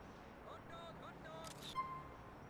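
A short phone camera shutter click rings out in Grand Theft Auto IV over faint background music and ambience, with a brief burst of bright noise midway.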